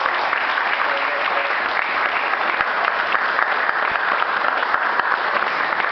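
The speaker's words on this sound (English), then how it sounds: "Let's give Pat a round of applause" An audience at a women's awards event applauds with steady, sustained clapping that fills the room, dense and even from start to finish.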